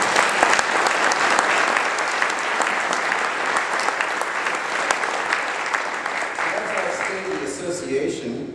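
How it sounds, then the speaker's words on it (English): Sustained applause from a luncheon audience at an association's annual state-of-the-association event, dense steady clapping filling the room for several seconds before gradually thinning out near the end. "So please join me in giving the board a round of applause."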